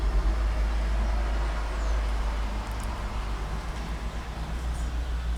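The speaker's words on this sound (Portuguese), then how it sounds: "Peraí, vamos esperar o carro passar." A car passes by outside a home, heard as a soft, distant swell of road noise with a steady low rumble underneath, faint and indistinct, with no speech.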